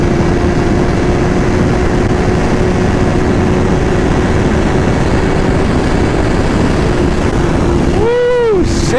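Suzuki GSX-R 750 motorcycle at high speed: loud, constant roar of wind buffeting and engine drone throughout, with a rising whine near the end as it accelerates.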